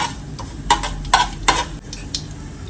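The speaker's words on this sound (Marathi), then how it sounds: "राई जिरं तडतडलंय" Mustard seeds and cumin crackle in hot oil for a pickle tempering, with a few sharp pops and a spoon stirring against the pan over a soft steady sizzle, close up and with no talk.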